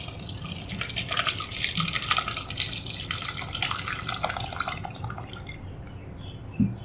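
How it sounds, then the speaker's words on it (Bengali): Water poured into a pan of potatoes for boiling splashes and trickles continuously at close range, thinning out near the end with a small knock. "এখন আলুগুলো দিয়ে দিচ্ছি, এর মধ্যে প্রয়োজনীয় পানি ঢেলে দিচ্ছি"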